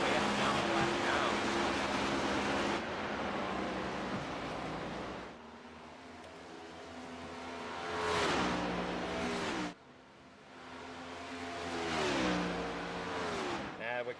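Race cars in the Old Glory Cup Genesis Aviation Series roar past on the track at Watkins Glen, engines loud and sweeping by in repeated pass-bys, with a commentator talking over the noise.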